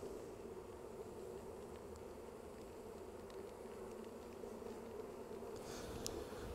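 Honey bees roll inside a jar with powdered sugar, giving off a faint, steady buzzing hum that continues throughout without any voices.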